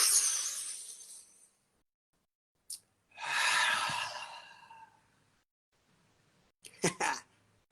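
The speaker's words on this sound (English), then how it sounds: "Deep breath in." A slow, deep inhalation taken alone in a quiet room, swelling over about two seconds, followed by a few shorter breathy sounds near the end.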